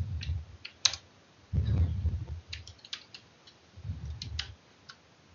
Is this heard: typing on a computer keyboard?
yes